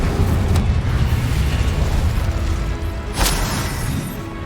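Spell blasts from Confringo and Incendio in the Hogwarts Legacy video game, a dense rumbling boom sustained throughout with a sharp crackling burst near the end, loud and alone.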